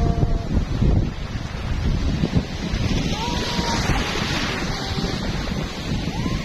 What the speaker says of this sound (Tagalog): Masarap maglakad sa dalampasigan.